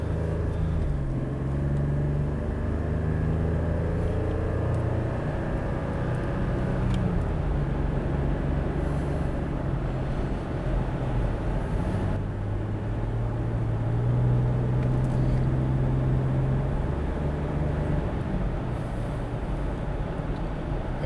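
A 2008 Jeep Grand Cherokee with a 3.7 engine, running rough while cold with a misfire, heard during a drive as a steady, low engine drone with uneven rumble and shifting pitch as it revs.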